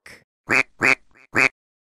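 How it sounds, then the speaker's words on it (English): Four loud, nasal duck quacks in quick succession, close and clear, with short gaps between them and no talking. "Duck."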